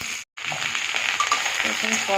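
Potol (pointed gourd) and potato sautéed with spices in a pan for a thin fish curry, giving a steady close sizzle and light stirring scrapes, broken by a brief gap near the start.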